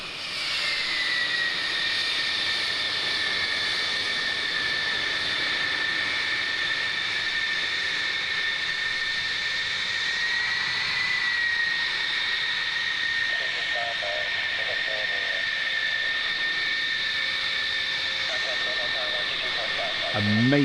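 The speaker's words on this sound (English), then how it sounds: "Amazing aircraft we're looking at right now. F-111s." F-111 jet aircraft from D-Day 50th anniversary flypast footage, heard as a steady, loud, droning engine roar that holds level throughout, with a few faint higher sounds showing briefly late on.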